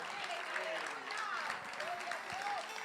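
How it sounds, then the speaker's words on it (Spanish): A church congregation applauding during a service, broad steady clapping under faint overlapping voices and cheers, moderately distant. "si va a aplaudir, póngale sabor a ese aplauso"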